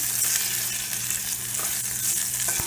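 Whole small onions and garlic fry in a pan for a pepper curry, giving a steady, loud, close sizzle with a few faint stirring clicks and no talking.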